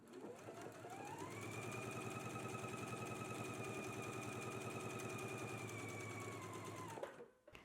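A sewing machine runs a continuous stitching pass on a patch pocket with a flap, its rapid mechanical whir ramping up, holding steady for about six seconds, then stopping abruptly.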